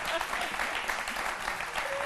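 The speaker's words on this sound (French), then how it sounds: "on les applaudit" A studio audience on a French-language midday television show gives brief applause, a continuous mid-level wash of clapping that carries the faint sound of a few voices mixed underneath.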